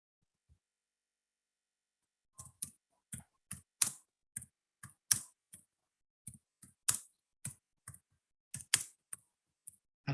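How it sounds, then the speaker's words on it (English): Keys clacking on a computer keyboard in irregular bursts of sharp clicks, fairly close and clear, with short pauses between runs and no talk over them. "somebody is really typing."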